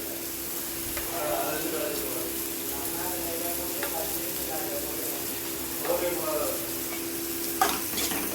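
Steady oily sizzling of mutton liver frying in a pan, with occasional stirring scrapes and clinks, continuous and close throughout.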